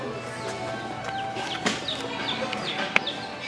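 Chicks and chickens at a Tractor Supply farm store, a steady chorus of soft peeping and clucking with faint chirps over a low indoor hum, moderately close.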